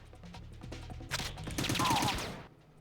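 Gunfire in Metal Gear Solid 2: Substance, a short burst of several rapid shots ringing out with clattering echoes, then fading.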